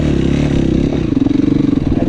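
Off-road motorcycle at a motocross track, its engine loud and close, running rough then pulsing into a throbbing rev.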